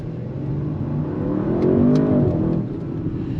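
An Audi RS6 Avant Performance wagon with the dynamic suspension package, driving in dynamic mode. A steady, close engine drone and road roar swell briefly as the revs rise and then settle back, with no talk.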